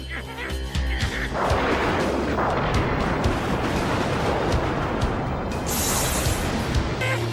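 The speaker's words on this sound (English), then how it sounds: "Only the crackle of thunder and lightning banging against the ground could be heard." Thunder cracks and lightning bangs against the ground in a stormy scene, a loud continuous rumble with sharp crashing hits, dense and close throughout.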